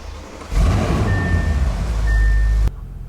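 An Audi RS7 engine fires up in a garage with a sudden loud catch, then a deep steady idle rumble lasting about two seconds before cutting off abruptly.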